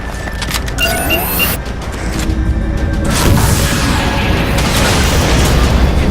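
A particle cannon is blown up in the Halo 4 video game, a loud sustained booming explosion with rumbling low end and crackling debris, continuing with dense blast noise throughout.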